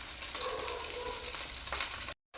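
Ginger and garlic frying in a pan for chilli paneer, a steady soft sizzle running continuously at moderate level before cutting out near the end.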